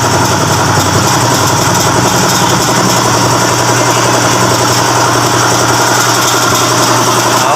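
A 2021 Toyota 86 engine idles steadily after an oil change, a loud, continuous mid-low hum with a faint rhythmic knock running through it, and no voices over it.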